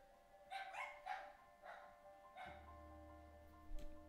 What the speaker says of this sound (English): Barking dogs.